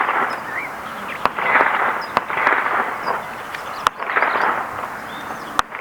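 A Huben K1 fires four sharp, evenly spaced shots over a steady outdoor background hiss from about 25 to 28 yards away.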